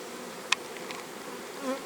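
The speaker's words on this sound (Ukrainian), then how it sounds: "свої бджоли вилітають, чужі прилітають" Steady buzzing hum of many bees flying around a hive in the rain, a low drone filling the air with one sharp click partway through.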